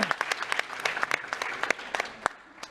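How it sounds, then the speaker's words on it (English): A conference audience gives a round of applause, many hands clapping in scattered, uneven bursts at moderate distance, fairly soft and without talk. "Paula, we can give you a round of applause."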